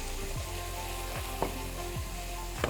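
Onion and cumin fry in oil with a dense, constant sizzle and crackle, close and loud, broken by a few brief stirring scrapes, with no voices.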